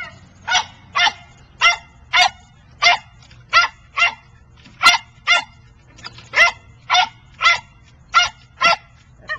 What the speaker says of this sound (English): Is the barking driving you crazy?